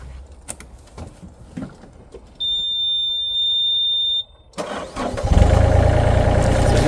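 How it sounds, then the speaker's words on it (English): A small excavator's engine starts after a high electronic warning beep, cranking briefly and then catching into a loud, close, steady running rumble. "now we'll just use this little excavator to push it over the rest of the way"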